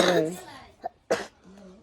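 Two short, sharp coughs from a child with a cold break up the child's speech, close to the listener.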